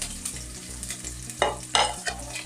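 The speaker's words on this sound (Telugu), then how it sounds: "క్యాప్సికమ్, బఠానీ, క్యారెట్ ముక్కలు వేసుకొని వేయించుకోవాలి" Chopped capsicum, peas, carrots, beans, cabbage, green chilli and garlic sizzle steadily in a pan over high flame, with a couple of louder bursts as the vegetables are tossed and stirred. The hiss is continuous and close, and no one speaks.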